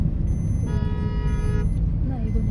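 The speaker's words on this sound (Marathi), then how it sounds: "पाठी कोणतरी हॉर्न वाजवता." A car horn sounds one sustained blast of about a second from a vehicle behind, over loud road rumble and engine noise on a drive through the Konkan countryside.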